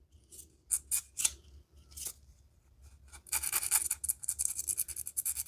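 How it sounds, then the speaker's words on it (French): A small basic file rasps against the end of a Z-scale model railway track post to round it off, with quick scraping strokes, first sparse and then a dense, steady run of close strokes. "je prends ma petite lime basique, et je lime le bout pour arrondir"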